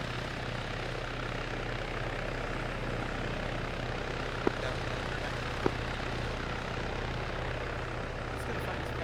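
A military helicopter flying overhead during a field training exercise, its steady rotor and engine drone continuous and fairly even throughout, with two brief sharp clicks partway through.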